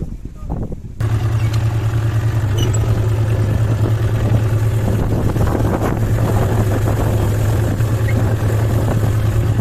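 A tractor engine drones steadily while running in a farm field, a loud, close, continuous low rumble with wind buffeting the microphone, starting abruptly after a short quiet moment.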